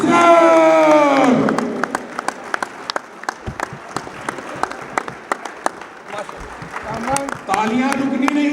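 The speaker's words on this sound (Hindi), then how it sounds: "तालियां रुकनी नहीं चाहिए जब तक माइक पे तशरीफ नहीं ले आते।" Applause fills a hall at a Lahore Chamber of Commerce election event, rising out of amplified speech into sustained clapping with sharp individual claps, then giving way to the voice again at the end.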